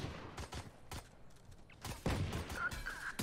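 Scattered gunshots in an esports first-person shooter match, several sharp separate cracks spread across a few seconds, fairly quiet amid game ambience.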